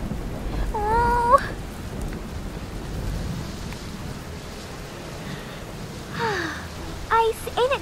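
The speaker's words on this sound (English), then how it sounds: "It's really storming out there." A thunderstorm pours steady rain, a constant hiss that lasts the whole time. Brief voices cry out near the start and again toward the end.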